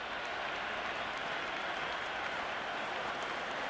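Steady, broad crowd roar and applause from a packed stadium in Cricket 26 during an IPL Mumbai versus Hyderabad game, a constant dense wash of cheering with no pauses, moderately loud and even.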